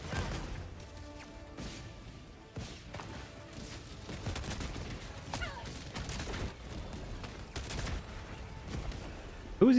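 Rapid gunfire and crashing impacts from the video game Helldivers 2, with dense bursts of shots and explosions sounding continuously under occasional voices.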